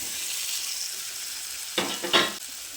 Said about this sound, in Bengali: এবার আলু ও কুমড়োটা দিয়ে মশলার সঙ্গে খুব ভালো করে মিশিয়ে নিচ্ছি।